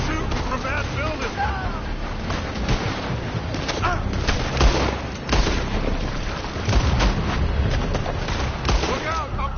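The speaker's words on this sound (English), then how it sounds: "They're shooting from that building." Gunfire pours from a building in the video game Red Dead Redemption 2, a dense, continuous barrage of shots and booms with no pause, loud and close, voices faintly mixed into the din.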